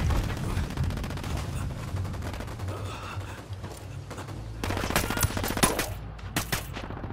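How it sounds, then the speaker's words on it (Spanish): Automatic gunfire in Ghost Recon Wildlands, a steady rattle of shots through most of the stretch, with louder, sharper bursts near the end. "Estoy disparando."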